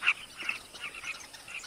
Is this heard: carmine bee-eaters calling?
yes